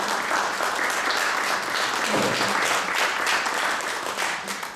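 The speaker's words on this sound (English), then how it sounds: "let's give them a round of applause" Room full of guests giving a round of applause, dense steady clapping that runs the whole stretch and tapers slightly at the end, with faint voices mixed in.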